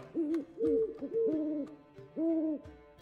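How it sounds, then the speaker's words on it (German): An owl, a little screech owl kept as a pet, in the video game The Witcher 3 gives several close, clear hoots in quick pairs and trills, broken by short pauses. "Das ist eine Eule"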